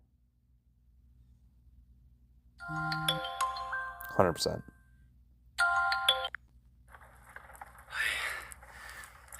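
A phone ringtone plays a short bright electronic melody, then rings again in clear bursts, close by, with a voice talking between and a faint rustle afterwards.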